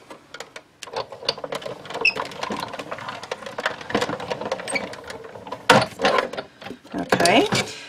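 A die-cutting machine cranks a heart framelit die through for a handmade Valentine card, producing a close, steady stream of clicking and ratcheting mechanical noise with sharper knocks toward the end, while someone speaks over it.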